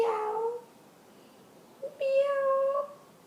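A young child imitates a cat's meow, giving a drawn-out tonal meow after an adult's short prompt, close and clear in a quiet room.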